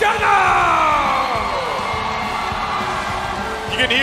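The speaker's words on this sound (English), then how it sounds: "You can hear the crowd here." Crowd cheering at an M5 World Championship Mobile Legends esports knockout match: loud sustained whoops and roaring from a large arena audience, with a commentator talking over it.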